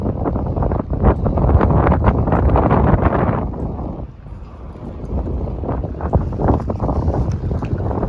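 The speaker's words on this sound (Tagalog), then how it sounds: "Sobrang hangin." Strong wind off a nearby beach roars and buffets heavily against the microphone in loud gusts, dipping briefly before surging again.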